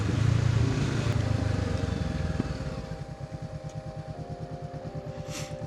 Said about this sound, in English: it's a parallel twin, so it's gonna have more of that lower grunt and rumble compared to an inline 4